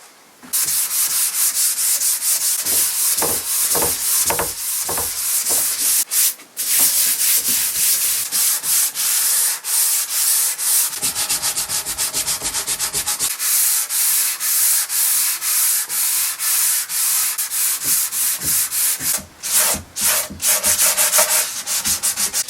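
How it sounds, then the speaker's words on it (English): Someone sands a mahogany cabinet with 240 grit sandpaper, making a loud, continuous, close abrasive rasp with only brief pauses and no voices. "I just need to give it a go over all over with 240 grit"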